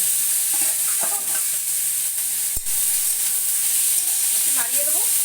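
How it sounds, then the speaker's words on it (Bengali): Fish oil fries in a pan with onions for a Bengali fish-oil chachchari, producing a loud, constant hissing sizzle throughout, with a faint voice murmuring underneath. "এখন মাছের তেলটা দিয়ে দেবো।"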